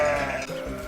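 A single sheep bleats in a short, steady, wavering call, loud and close with no other sounds.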